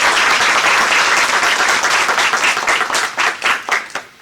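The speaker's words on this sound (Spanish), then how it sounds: "para quien por favor solicito un fuerte aplauso" A lecture-hall audience at a university criminal law event gives loud, dense applause to welcome a professor, the clapping holding strong before thinning into scattered individual claps as it fades out.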